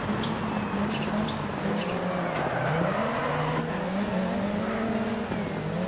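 Ford Focus rally car racing in DiRT 4 World RX, its engine droning at a steady high pitch and rising and falling with throttle, continuous and close, with faint tire noise and no talk.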